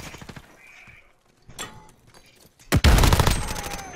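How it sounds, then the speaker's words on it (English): An MP5 submachine gun in Call of Duty Modern Warfare fires a loud close burst of rapid shots near the end, after quieter clicks and handling noises. "I love the MP5. This is a nice gun."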